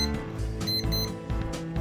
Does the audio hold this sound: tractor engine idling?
no